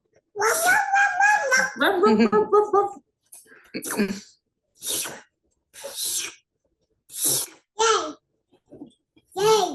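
A young child imitates a dog with a string of short yips, whimpers and breathy barking sounds separated by pauses. An adult voice is heard talking near the start.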